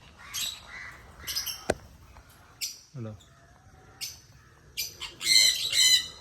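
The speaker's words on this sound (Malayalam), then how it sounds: "ഇവിടെ ഒരുപാട് കിളികളെ കണ്ടിട്ടോ കാണിച്ചു തരാം ഇതൊരു കിളിക്കൂടാണ്" Caged birds give sharp, scattered squawks and short chirps at close range, in uneven bursts separated by quiet gaps, with a little human voice mixed in.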